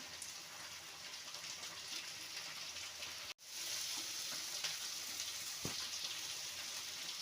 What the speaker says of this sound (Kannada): ಟೊಮೆಟೊ ಆ್ಯಡ್ ಮಾಡ್ತಾ ಇದ್ದೀನಿ